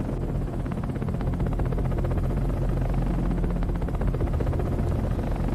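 Steady, loud thumping rotor drone of a helicopter flying, continuous and close, with no voices.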